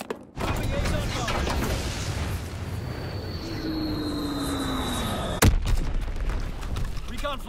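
Azon bomb bombing run in Call of Duty WWII, a dense, continuous rumble of explosions and gunfire with aircraft tones sweeping overhead and one sharp blast near the end, under faint game voice callouts.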